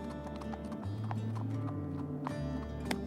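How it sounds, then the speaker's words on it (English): Wild horses move across the Namibian desert, their hoofbeats a steady clip-clop at moderate distance over a low rumbling background. "Wild horses."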